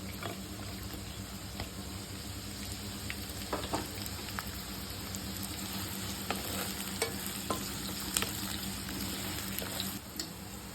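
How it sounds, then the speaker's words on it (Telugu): Onions and curry leaves fry in oil for a dried fish and brinjal curry. A soft, constant sizzle is heard up close and fairly quiet, broken by scattered spatula taps and scrapes. "ఇప్పుడు ఇదే ఆయిల్లో ఉల్లిపాయలు వేసుకున్నాము. ఉల్లిపాయలు, కరివేపాకు కూడా వేసుకున్నాము."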